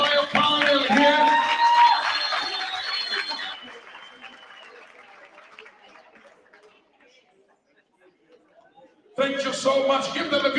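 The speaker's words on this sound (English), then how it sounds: "give a big round of applause to my entire panel here" Audience at a panel event applauding and cheering the panelists: loud, dense clapping at first that thins and fades to near silence, before a voice speaks up again at the end.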